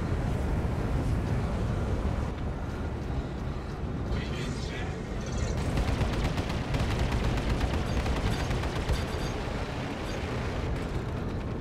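Gunfire in a live fire encounter in the space game Star Citizen forms a dense, continuous roar of rapid shots and blasts, with bursts of sharper crackling fire in the middle and end.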